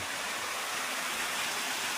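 Waterfall on a hiking trail at Ambon-Ambon Falls, a steady broadband rush of falling water, dense and continuous with no other sounds.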